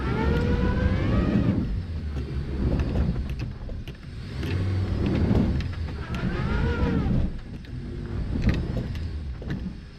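A Jeep offroading in four-wheel drive, its engine droning and rising in surges as it strains over rough terrain, loud and close from inside the cabin, with a few whining tones and no talk.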